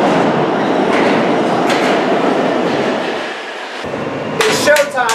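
A subway train rides on its rails, with a steady close rumble and clatter from inside the carriage, easing slightly midway before rising again, and short bursts of voices near the end.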